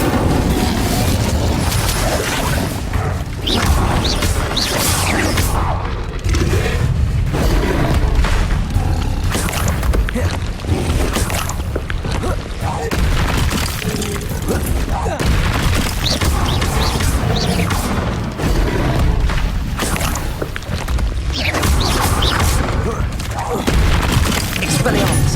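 Hogwarts Legacy Confringo fire spells go off in rapid succession, a dense chain of booming blasts and crackling bursts that continues almost without pause.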